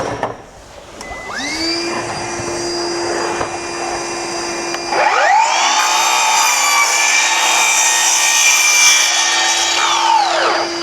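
A power tool whines steadily while cutting plastic bulkhead trim to length in a campervan, a loud sustained drone that rises sharply in pitch partway through and holds until it winds down at the end.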